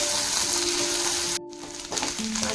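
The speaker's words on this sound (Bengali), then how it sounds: "আদা রসুন বাটাটা দিয়ে আমি আর একটু হালকা নেড়ে নেব" Ginger garlic paste sizzles in hot oil with onions in a pan while being stirred, a steady close frying hiss with a brief pause and soft scraping, no voices.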